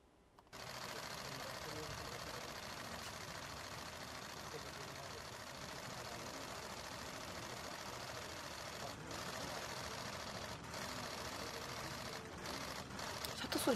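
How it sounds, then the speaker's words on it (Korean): Camera shutters click during a police arrest, with a few sharp clicks standing out toward the end over a constant loud background hiss. "셔터 소리 장난 아니지."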